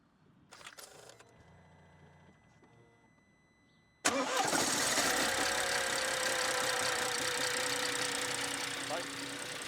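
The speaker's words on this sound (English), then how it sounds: "at the beginning there was quite a loud clank. That was from the chain being stretched." A BMW engine with a stretched timing chain cranks quietly, then fires with a sharp loud clank and settles into a steady, rough idle close by.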